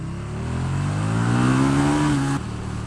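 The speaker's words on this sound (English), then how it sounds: "This is a big V-twin." A KTM Super Duke 1290 R big V-twin motorcycle engine rumbles loudly and close while riding slowly, a steady throbbing drone that rises slightly in pitch, then drops as the throttle eases off.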